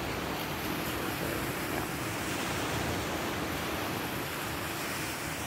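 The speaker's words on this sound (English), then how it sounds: "The wind's going to ease up today." Steady wind blows across an east-facing shoreline point on a sunny day, a constant broad rushing roar mixed with surf wash, loud and continuous with no talking.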